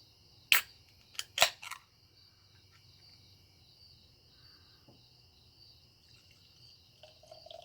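A can of lemon and lime berliner weisse from 603 Brewery cracks open with two sharp, close snaps in quick succession, then goes quiet with crickets chirping faintly in the background.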